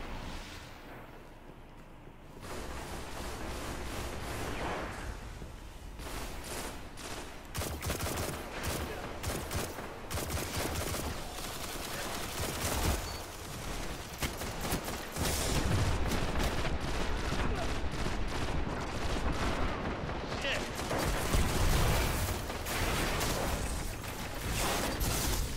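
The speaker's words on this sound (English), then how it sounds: "I felt my gun fire." Gunfire from the player's own weapon in a video game: dense, sustained bursts of rapid shots running almost without pause, loud and close, with heavier stretches toward the end.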